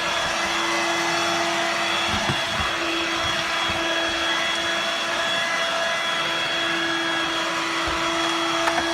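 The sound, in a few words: Hoover Dirt Devil Vibe stick vacuum cleaner running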